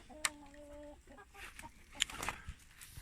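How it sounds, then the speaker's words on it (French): Hens and a rooster clucking in a coop built for twelve hens and one rooster, giving scattered short clucks and calls at a moderate distance against quiet background noise, with one brief sustained call near the start. "12 poules et un coq."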